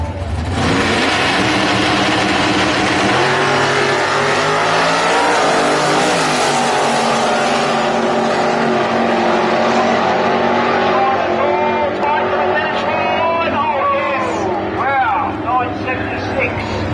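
Drag race cars roar down the strip at a Mopar Sunday event, a loud sustained engine howl that rises and then fades, with a commentator talking over it.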